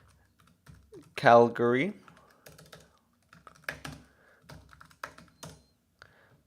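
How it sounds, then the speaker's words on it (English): Quick computer keyboard typing, a short run of light, irregular key clicks entering a place name into an online map search, with a person speaking briefly around the keystrokes. "let's type in"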